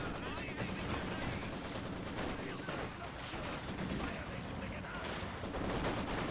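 Continuous PPSh submachine gun fire from Soviet infantry in Company of Heroes 2, a dense rattling stream of shots mixed with distant battle noise, steady and unbroken, with a commentator talking throughout.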